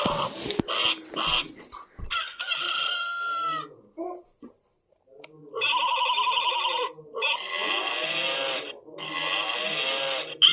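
A toy-like mobile phone rings in repeated electronic bursts of melodic tones with short gaps, used to wake a child indoors, close and fairly loud, with a few brief sounds between the rings.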